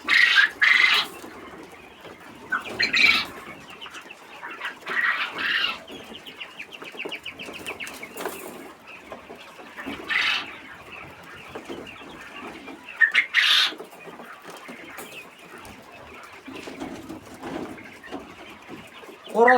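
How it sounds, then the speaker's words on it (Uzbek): Chickens and roosters of a mixed Moscow breed cluck and crow in a farmyard, with repeated squawking bursts over a steady background of lower calls. "Xo'rozlari sal shum bo'ladi."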